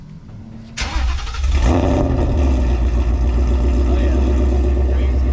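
A 2020 Ford Mustang GT with a Corsa exhaust fires up close by with a sharp starter burst, then settles into a deep, loud, rumbling idle with a slight rev. A person briefly exclaims during the start.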